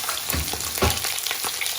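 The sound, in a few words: goat meat browning in a tajine pot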